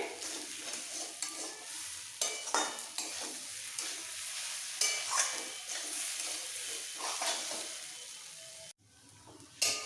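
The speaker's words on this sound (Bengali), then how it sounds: "তিন চার মিনিট লাগবে এইভাবে মশলার সাথে চাকলার ডালটা কষাতে" Chana dal stir-fried with salt, turmeric and spices in a pan, giving a steady close sizzle with scraping stirs and soft clinks throughout, no talking.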